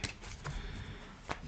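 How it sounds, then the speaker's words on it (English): Tarot cards being shuffled by hand, with rapid papery riffles and a few sharper slaps as cards fly loose, close and moderately loud with no voice. "Keep shuffling."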